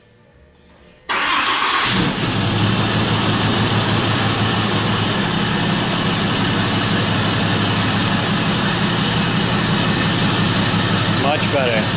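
A 2019 Cummins diesel truck engine fires up by remote start, a sudden crank and catch, then settles into a steady, loud, close rumbling idle that continues throughout.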